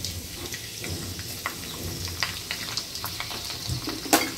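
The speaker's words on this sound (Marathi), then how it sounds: "आता तेल तापलं आहे, त्याच्यात थोडं फोडणी आणि नंतर लसूण चिरून ठेवलं आहे." Chopped garlic tempered in hot oil for a festival offering dish, giving a soft, steady crackling sizzle with scattered sharp pops and one louder spit near the end, heard close without any talk.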